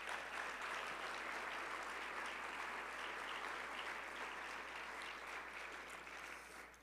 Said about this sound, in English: I would love to clap one more time for our faculty and staff.